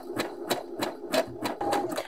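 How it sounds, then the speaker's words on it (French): A sewing machine stitching fabric, with the presser foot lowered and a little thread tension set, running in a steady rhythm of repeated mechanical clatters about every quarter second, close and clear with no voices. "Et j'y vais. J'essaie de coudre le plus droit possible."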